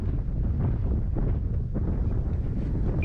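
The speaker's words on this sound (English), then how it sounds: "Luckily, the wind is just straight down the runway." Steady wind buffets the microphone at a radio-control model airfield, blowing straight down the runway as a continuous, loud low rumble with gusty swells and no pauses.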